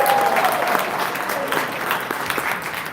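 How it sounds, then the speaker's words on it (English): An audience at a meeting applauds steadily, a dense run of close clapping that carries on without a break for a few seconds. "And I want to double down on that round of applause."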